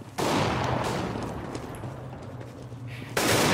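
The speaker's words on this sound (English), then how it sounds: "Flashbang." A flashbang grenade going off in the video game CS:GO, a loud burst that opens the clip, holds as a sustained roar, and hits again near the end.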